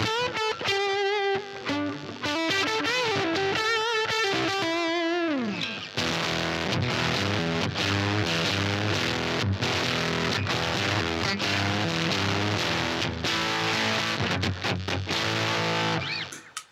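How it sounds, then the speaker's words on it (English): Loud electric guitar through a swirling phaser, first a sweeping melodic line, then thick, noisy, distorted chords ringing on continuously. "there's the blue phase, which is extremely noisy but has a real gnarly cool sound."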